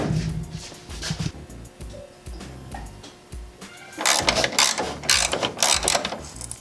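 A ratchet tightening a bolt on a Magnum headache rack, with sparse clicks and clanks at first, then denser, louder ratcheting bursts close by, and no talking.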